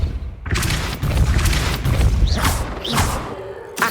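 Hogwarts Legacy Depulso force spell going off in a video game, a heavy booming blast with crashing impacts that rumble on for a few seconds, followed by a couple of sharp whooshing bursts.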